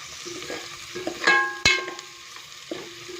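Onions sautéing in a pan with cinnamon, cardamom and cloves for a Christmas beef stew, a steady close sizzle with a few louder clatters of stirring partway through.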